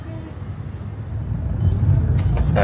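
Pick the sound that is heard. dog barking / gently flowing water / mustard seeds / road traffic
road traffic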